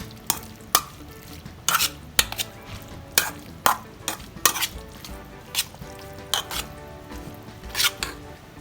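Cooked pasta folded through pesto sauce with broccoli in a pan, giving repeated wet stirring and scraping strokes with soft sizzle, close and fairly quiet, with no talk.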